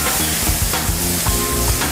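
Stock poured into a hot pan for a ravioli dish, giving loud, close, steady sizzling and bubbling with light stirring clinks, no talking.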